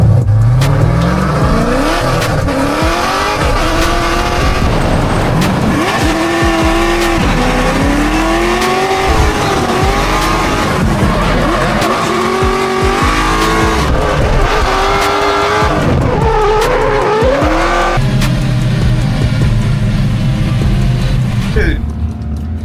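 A race car drifts around a track, its engine revving hard and rising and falling in pitch while the tires squeal loudly and continuously, with someone talking over the noise throughout.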